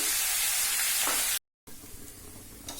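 Jackfruit sizzles steadily as it fries in a pan with jaggery, a bright, close hiss that cuts out briefly and then returns slightly softer.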